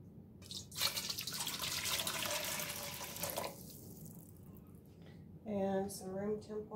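Hot water from a hot water tank splashes and pours into a dishwashing basin close by for a few seconds, followed by a short spoken remark.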